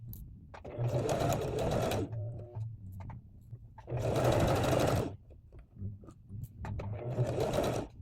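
Sewing machine stitching a zipper onto a flat denim pouch, running in three steady bursts of rapid mechanical whirring separated by short pauses, close and clear with no talking.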